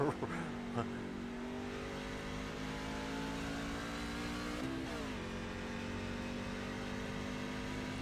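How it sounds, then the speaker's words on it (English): A racing truck engine in a truck racing video game holds a steady mid-pitched drone, then drops in pitch as it downshifts partway through, running continuously under faint commentary. "And it sounds like Nathan Lafayette is really downshifting, not on the gas very hard, so he is saving fuel"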